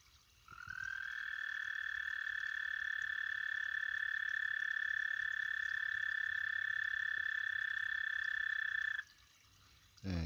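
A spring peeper chorus frog calls from a backyard pond with one long, steady, piercing high trill lasting about eight seconds, close and loud, then stopping abruptly.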